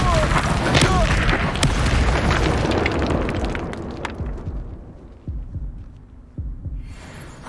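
The Incendio fire spell cast in Hogwarts Legacy, with heavy booming bursts and rumbling blasts that are dense at first, then thin into scattered thuds and quieter low impacts.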